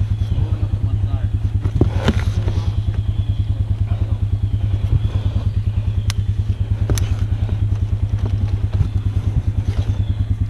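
A Yamaha Grizzly ATV stuck in mud idles with a steady low, throbbing engine putter, close and continuous, with a few clanks and thumps over it while people talk nearby.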